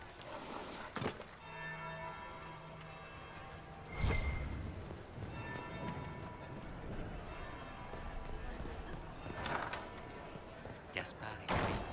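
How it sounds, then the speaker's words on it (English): A church-style bell tolls in the video game Dragon Age Inquisition, ringing with sustained resonant tones over busy ambient ball noise, footsteps and murmuring crowd voices. "That's the bell."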